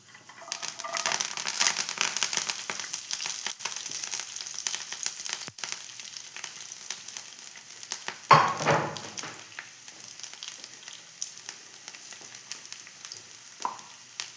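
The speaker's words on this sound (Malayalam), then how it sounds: "ഇതാ കടുക് പൊട്ടി ഉലുവ ഇട്ട് ഇനി അതിലേക്ക് കുറച്ച് വെളുത്തുള്ളിയും കറിവേപ്പിലയും" Garlic and curry leaves drop into hot oil with popped mustard seeds and fenugreek for a tomato chutney, giving a steady close sizzle with a sharp burst of spitting midway and no talk.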